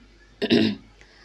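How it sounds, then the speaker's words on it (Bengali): One short, rough cough from someone with a cold, close and fairly loud, in an otherwise quiet room. "আমার ঠান্ডা, তো কথা বলতে গেলে কষ্ট হচ্ছে, আবার কাশিও হচ্ছে।"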